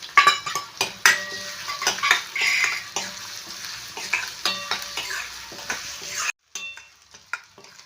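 Small onions frying in oil in a pan for Tirunelveli sodhi kuzhambu, a close crackling sizzle broken by frequent sharp clinks and scrapes of a metal spoon stirring, then a brief pause near the end.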